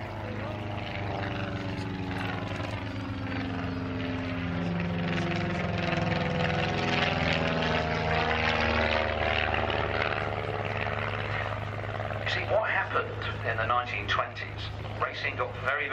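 A GB Super Sportster, a small racing plane with a large engine, climbs vertically during a race-day airshow at Shuttleworth. Its propeller engine drones loudly and steadily, rising and falling in pitch, with a commentator talking over it.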